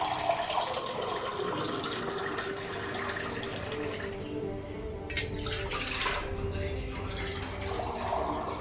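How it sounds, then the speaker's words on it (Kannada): Water from a tap runs steadily for several seconds, a continuous hiss and splash that brightens toward the end as roughly two glasses of water fill a pot that was just used for boiling watermelon rind. "2 ಲೋಟ ನೀರು ಹಾಕೋಣ."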